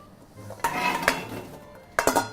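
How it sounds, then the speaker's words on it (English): Sliced apples being tipped into a metal steamer pot, making a few close clatters and clanks of fruit and utensil against metal, with a quick double clatter near the end. "So we'll add these apples to our steamer."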